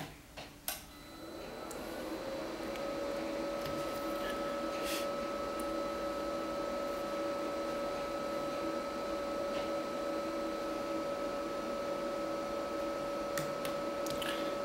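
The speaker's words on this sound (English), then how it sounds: "I'll print a test page to show you how to do that." A Brava 21 printer running a test page gives a steady mechanical hum with a sustained tone and faint ticks, continuous and fairly quiet after a short click at the start.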